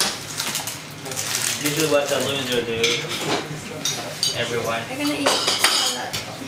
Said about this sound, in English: Washing the dishes.